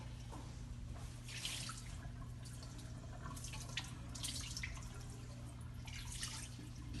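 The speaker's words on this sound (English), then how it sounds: "Orchatz, we wash our hands without a bracha." Running water from a tap pours steadily with splashing and dripping for ritual hand washing at a Passover seder, moderately close, over a low steady hum with no talk.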